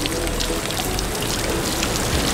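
Water pours steadily from an outdoor beach shower, a continuous broadband splashing rush with no breaks and no voices.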